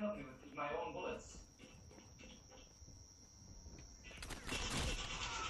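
Bursts of gunfire from a Call of Duty match ring out in quick volleys, loud at the start and again near the end, with players talking over the shooting.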